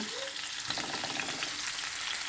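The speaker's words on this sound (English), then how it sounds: "fry these for about a minute" Sweet pepper, onion, scallion and thyme frying in a pan for ackee and saltfish, giving a soft continuous sizzle with light stirring, fairly quiet and without talk.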